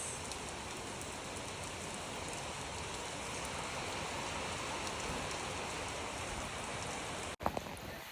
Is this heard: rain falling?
yes